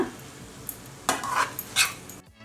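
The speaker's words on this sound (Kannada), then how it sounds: "ಲೋ ಫ್ಲೇಮ್ ಇಟ್ಕೊಂಡು ಮಿಕ್ಸ್ ಮಾಡ್ಕೊಳ್ಳೋಣ" A spatula scrapes and tosses Chinese street-style veg fried rice in a pan over a low flame, making short, rough scraping bursts with faint sizzling between them and no talk.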